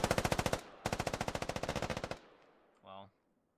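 Suppressing machine-gun fire in the tactical shooter Squad: two loud, close, rapid bursts of automatic shots, the second longer, followed by a short tonal blip and then quiet.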